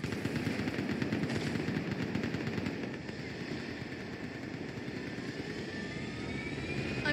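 Rapid machine-gun fire with a roaring aircraft engine from a gunship in the game Mass Effect 3, a dense continuous rattle and drone throughout.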